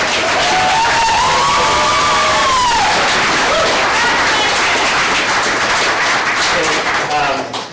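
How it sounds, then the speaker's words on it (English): An audience at a county school board meeting bursts into sustained applause and cheering, with dense clapping filling the room and a few whoops and voices rising above it throughout. "Can we clap again?"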